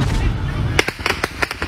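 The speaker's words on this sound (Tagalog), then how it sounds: "nang marinig ang sunod-sunod na putok ng baril sa labas ng polling precinct" Gunshots ring out in quick succession outside a polling precinct during an election-day clash in Tuburan, Basilan: a loud crack followed by a rapid string of sharp bursts, some distance off, mixed with voices.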